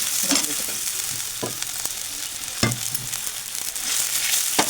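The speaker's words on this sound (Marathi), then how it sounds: "आणि त्याच्यात पाण्याला उकळल्यानंतर मग आपण त्यात वरीचं भाजलेलं तांदूळ" Roasted barnyard millet rice going into boiling water in a pot, with bubbling and sizzle-like noise under a few clanking stirs and scrapes of a utensil, close and fairly loud.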